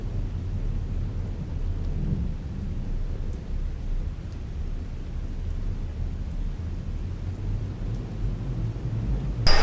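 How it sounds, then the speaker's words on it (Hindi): Heavy monsoon rain pours down steadily in a forest in Tadoba, India, a dense, continuous roar with deep low rumbling mixed in, loud and unbroken from start to finish, with no voices. "अभी पूरी जोरदार बरसात चालू हो गई है"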